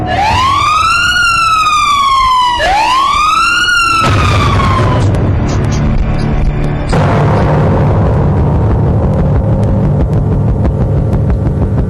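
Emergency vehicle sirens wail loudly in city traffic in Campo Grande, two rising-and-falling sweeps followed by a dense rush of traffic noise and a sudden burst, with no talking.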